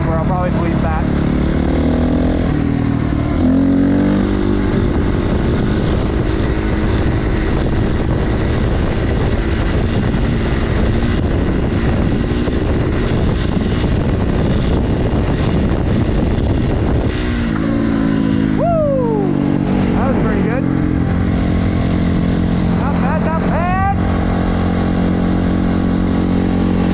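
A motorcycle engine revs hard and loud during a fast wheelie, its roar surging and holding for most of the stretch, dropping briefly before climbing again with rising pitch sweeps near the end.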